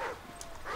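A dog in the video game Call of Duty: Ghosts gives a brief, faint whimpering yelp, a short whine that fades and returns within under a second.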